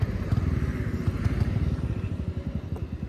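A Suzuki Access 125 scooter engine sputters as it runs out of petrol, an uneven low puttering with irregular chugging pulses that grow choppier, close by with no speech.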